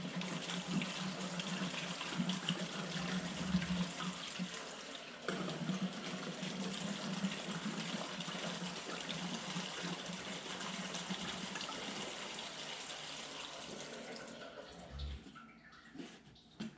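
Fuel pours steadily through a funnel into the tank of a 1952 Farmall Super C tractor, a continuous close liquid gurgle and splash that runs for most of the stretch before tapering off near the end.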